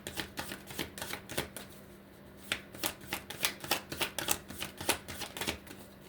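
Tarot cards being shuffled and drawn by hand: a quick run of crisp riffling flicks and snaps, with a short lull in the middle before the rapid shuffling resumes, close and fairly quiet with no talking.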